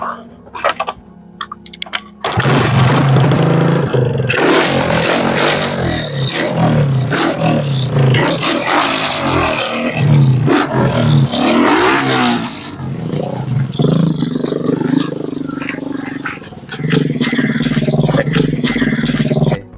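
A homemade motorbike built from a bicycle coughs into life after a quiet moment, then runs loud and rattly, its small engine revving up and down for a long stretch, with voices faintly underneath.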